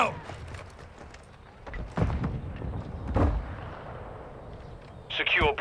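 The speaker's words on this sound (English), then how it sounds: "Grenade out!" A grenade detonates in Call of Duty Modern Warbirds 2 multiplayer, heard as a few heavy booming thuds amid game noise and gunfire, with a sharper burst near the end.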